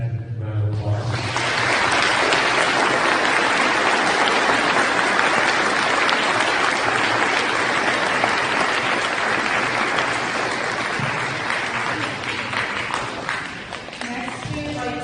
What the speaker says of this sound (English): Let's give it back a round of applause.